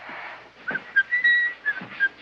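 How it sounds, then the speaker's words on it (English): A person whistles a few short, thin notes in quick succession, fairly near, with no talking. "Try whistling again, why don't you?"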